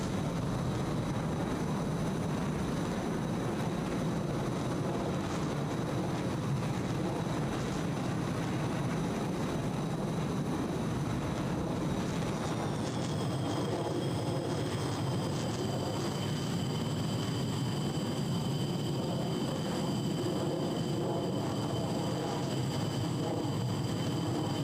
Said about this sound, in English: The other F-15s are inbound now, starting to dive.